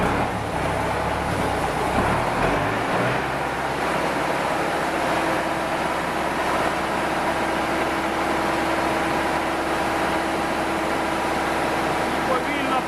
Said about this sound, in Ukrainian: Запускаємо трактор.